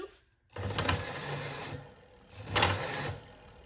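On a Razor MX650 electric dirt bike, the chain guard rattles against the chain in a busy mechanical clatter that starts after a brief silence and swells twice in loudness.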